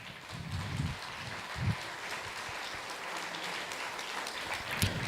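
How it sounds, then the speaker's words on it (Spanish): Applause at a public accountability meeting for young people and children with disabilities: a continuous, moderately distant patter of many hands from a crowd, with a few low thumps and voices underneath. "démosles un aplauso"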